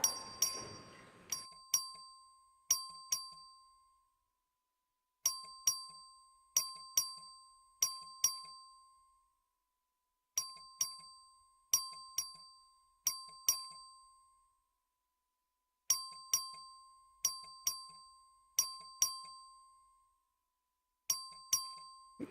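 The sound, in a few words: voting bell ringing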